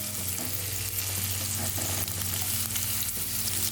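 Garlic fries in butter in a hot pan with a loud, dense, continuous sizzle close by, without a break.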